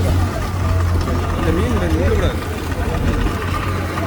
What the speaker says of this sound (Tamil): எல்லாருமே இன்ஜினை இப்போ ஸ்டார்ட் பண்ணிட்டாங்க